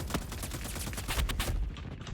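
Rapid automatic gunfire from a weapon in a Roblox war shooter game, dense overlapping bursts of shots sounding loud and close, continuous for a couple of seconds with a heavier cluster of blasts near the end.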